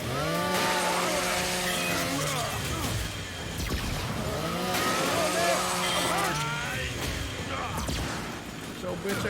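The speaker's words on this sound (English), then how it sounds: "Chainsaw everything." A chainsaw roars in the video game Gears of War 5, a loud revving buzz that rises and falls in long surges amid gameplay noise.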